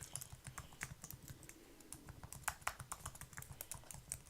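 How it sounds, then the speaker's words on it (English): Fingers type on a computer keyboard in quick, irregular bursts of soft clicking keystrokes, close but quiet, with no voice over it. "I'm just going to type it in anyway."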